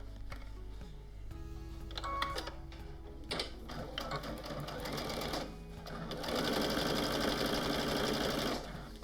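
A sewing machine stitching quilt pieces with a 1/4 inch seam allowance, as a steady mechanical whirring that starts and stops, with small clicks and handling sounds and a long fast run near the end, heard close up.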